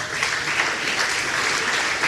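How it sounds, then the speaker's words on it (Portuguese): Sustained, dense applause from a church congregation fills the space steadily, loud and even throughout with no distinct talk. "Isso, vamos aplaudir o Senhor Jesus."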